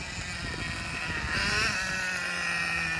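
An HPI Super Nitro RS4 nitro RC car engine runs during break-in as a steady, buzzing idle with a rough, uneven edge. It holds fairly loud and close throughout, with no talk over it.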